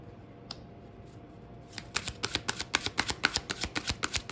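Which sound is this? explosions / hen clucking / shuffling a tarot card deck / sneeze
shuffling a tarot card deck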